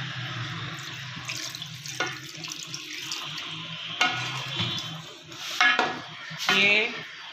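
Water splashes and runs into a pot of chicken biryani korma in a home kitchen, with clinks of metal utensils against the pot and a steady low hum in the background, close and fairly loud.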